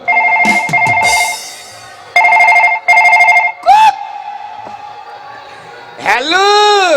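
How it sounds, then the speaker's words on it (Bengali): A mobile phone rings indoors with bright electronic ringtone tones: short bursts of pulsing, chiming notes, repeated several times, with sweeping tonal phrases near the end and voices nearby. "ফোন কোথায় বাজলো?"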